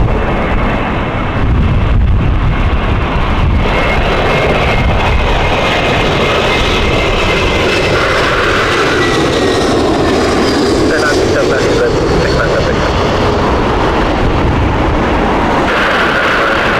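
Aircraft engine noise at Heathrow Airport during strong crosswinds, a steady loud broadband roar with a high whine running throughout, as a plane taxis; a voice speaks faintly over it.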